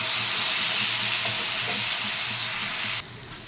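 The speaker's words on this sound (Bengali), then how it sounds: "দুটো মিডিয়াম সাইজের আলু, একটু নুন দিয়ে আমি ভেজে নিচ্ছি" Two medium potatoes with salt fry in hot oil, giving a steady, close, dense sizzling hiss that holds evenly before dropping abruptly quieter near the end.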